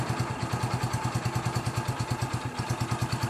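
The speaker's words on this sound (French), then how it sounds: "Le ralenti descend." A motorcycle engine idling without the choke, the idle speed easing down: steady rhythmic low thumping pulses, close and even, with no voices.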